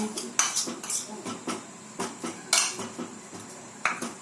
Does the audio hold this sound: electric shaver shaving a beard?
no